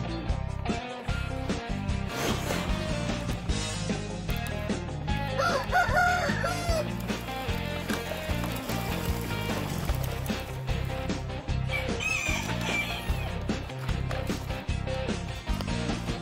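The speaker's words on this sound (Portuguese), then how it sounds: "Tirar essas galinhas aqui." Chickens and a rooster on a farm during soybean planting: a rooster crows loudly over scattered clucking, amid a dense, busy background that runs throughout.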